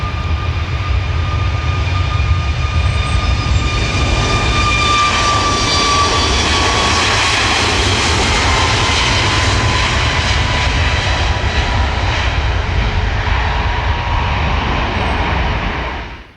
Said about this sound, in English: that might have been a Phenom